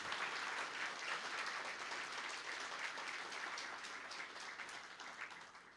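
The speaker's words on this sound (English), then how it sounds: "This deserves a huge round of applause." Sustained audience applause fills the hall at a hospital's fourth anniversary ceremony, a dense steady clatter of many hands that eases slightly toward the end, with no talk over it.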